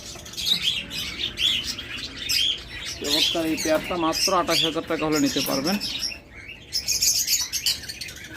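Pet birds at a bird farm chirping and tweeting constantly, many high twittering calls layered together close by, while someone talks over the middle of the chorus.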